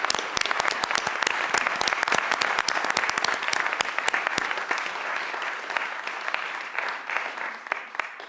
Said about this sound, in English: Let's give a round of applause.